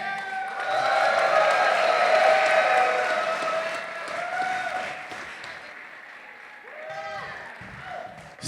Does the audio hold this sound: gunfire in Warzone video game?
no